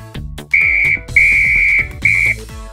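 Three sustained high-pitched whistle blasts, each about half a second to a second long, sounding over a busy musical backing on a beach.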